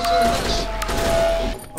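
Loud gunfire from the video game Cry of Fear bursts in a dense, sustained fusillade with heavy impacts, cutting off abruptly near the end, while players talk over it.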